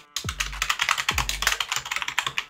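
Rapid typing on a computer keyboard while entering a new form name in Visual Studio 2022, with close, crisp key clicks in an uneven stream and no speech.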